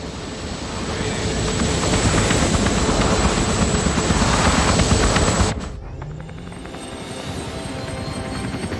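A helicopter in the VR video game Hitman thunders with a loud, dense rotor and engine roar for several seconds, then cuts abruptly to a quieter, thinner hum.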